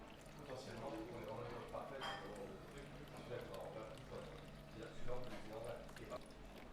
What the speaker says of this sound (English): So taking our water, just going to carefully pour it down